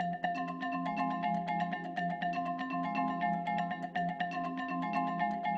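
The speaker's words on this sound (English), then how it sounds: "I might go to the filter delay effect and I might drop it onto melody." A synth melody in Ableton Live processed through a Filter Delay effect, repeating bright tonal notes with echoing tails over a steady low pattern, continuous and fairly even in level with no voices.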